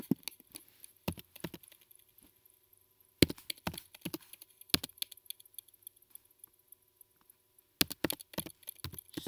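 Typing on a computer keyboard in quick clusters of sharp, close clicks with pauses between the bursts. A faint steady hum sits underneath.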